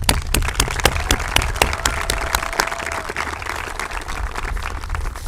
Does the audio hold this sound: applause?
yes